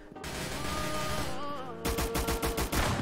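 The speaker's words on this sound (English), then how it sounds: "Come on, dude, it's a shotgun." Shotgun blasts in the Roblox shooter Arsenal, a dense run of loud, overlapping game gunfire over a busy music-like backdrop, with a sharper burst of rapid shots in the final second.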